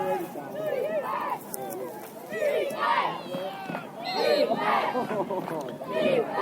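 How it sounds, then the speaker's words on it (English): A youth football crowd at a championship game shouts and chants for defense, rising and falling waves of voices from the stands, fairly distant, with a play-by-play announcer talking over it. "So there's cries for defense from the Crusher crowd"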